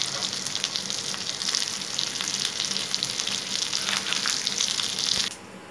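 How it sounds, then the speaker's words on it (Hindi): Potato kebabs fry in hot oil, a steady close crackling sizzle that holds for several seconds and then drops away abruptly near the end, with no one speaking. "अब मैं इन कबाबों को फ्राई कर रही हूँ।"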